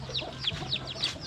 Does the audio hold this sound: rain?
no